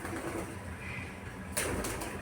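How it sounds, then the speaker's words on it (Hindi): Pigeons cooing softly near a feeding spot, low murmuring coos against faint background hiss, with a brief rustle or knock near the end. "दूसरी प्रजाति का भी एक कबूतर है,"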